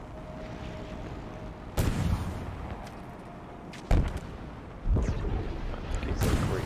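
Shock rifle gunfire in Halo Infinite's heroic campaign: several sharp, loud bursts arrive at irregular intervals, each cutting through a steady rumbling background of game ambience.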